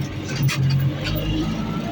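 A 1985 tractor with a driven front axle turns almost on the spot, its engine humming steadily at moderate loudness with a low rumble and a brief rise in the middle.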